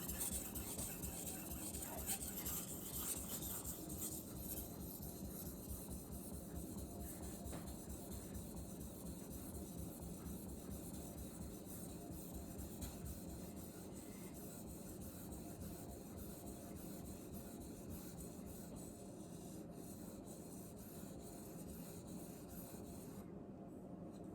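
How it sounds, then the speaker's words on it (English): A Messermeister Meridian Elite knife edge is drawn over a sharpening stone in repeated soft rasping strokes, a faint and steady rhythmic scraping up close with no voices. "Just trying to make sure I'm feeling the edge when I'm sharpening"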